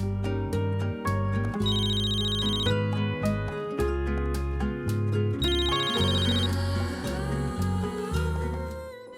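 A telephone ringtone plays loudly and continuously as a melodic electronic ring with repeating tonal phrases, set in a Hindi TV drama scene.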